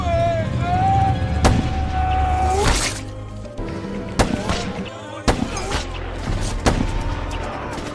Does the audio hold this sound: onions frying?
no